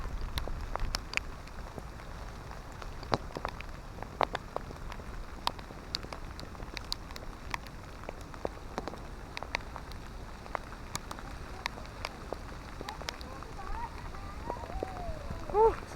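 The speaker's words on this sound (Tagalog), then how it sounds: "grabe yung ulan, ang lakas" Heavy rain falling on a mountain trail at Mt. Jinmianshan near Taipei, a steady wash of drops with scattered sharper splashes and taps throughout, fairly quiet and continuous, with a brief faint sound near the end.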